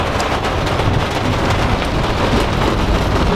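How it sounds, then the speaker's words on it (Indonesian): Heavy rain with thunder, a dense, loud, continuous wash of pouring rain and deep rumbling, no talking. "Hujan."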